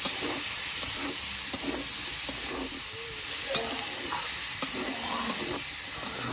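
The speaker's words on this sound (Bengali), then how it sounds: "এবার মানে জল দিয়ে দিব দিয়ে এবার ভালো করে কষিয়ে নেব" Snail masala with spices being stirred and sautéed in a pan, a steady sizzle and hiss with soft scraping strokes of the spoon, close and continuous, with no talking.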